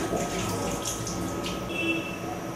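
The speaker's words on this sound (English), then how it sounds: "Wash a plastic bottle at least 2 to 3 times with water." Water splashes and runs while a plastic bottle is rinsed, a close continuous wash with a few brief clinks and swishes.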